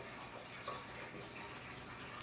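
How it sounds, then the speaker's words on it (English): Water flowing steadily through a home fishroom aquarium system moving 260 gallons between tanks and a barrel, heard as a continuous even rush and trickle with no talk. "260 gallons of volume flowing through this entire system."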